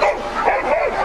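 German shepherd dogs bark and yip at a dog show, loud close barks blending into a continuous excited chorus with whimpering tones.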